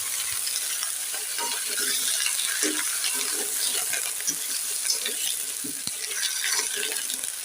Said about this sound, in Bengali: তেলে পরে একটু ভেজে নিচ্ছে মা